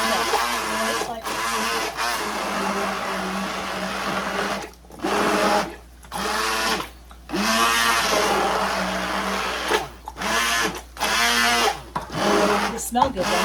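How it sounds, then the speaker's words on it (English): An immersion blender chops home-canned tomatoes in repeated loud bursts of whirring, stopping and starting about a dozen times over the clip, with talking in between. "now I'm going to immersion blend my tomatoes"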